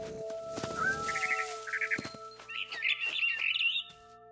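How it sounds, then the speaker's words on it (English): A barn swallow chirps outside a window in the video game Remains of Edith Finch, giving a few quick bright chirps and twittering trills over a soft ambient background, fairly close and clear. "Then I heard chirping outside my window. It was a barn swallow going back to her nest."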